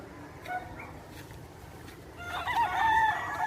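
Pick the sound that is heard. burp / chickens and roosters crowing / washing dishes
chickens and roosters crowing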